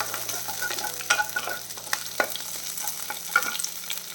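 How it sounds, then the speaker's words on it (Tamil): Green chillies sauté in oil in a pan while a utensil stirs them, producing a soft, continuous sizzle broken by clinks and scrapes of the stirring. "பச்சை மிளகாய் சேர்த்துடலாம். இதெல்லாம் கொஞ்சம் வதங்கட்டும்."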